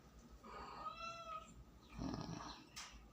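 A pet cat awake at night gives a faint, soft purring mew, quiet and close, followed by a low rustle and a brief brushing noise.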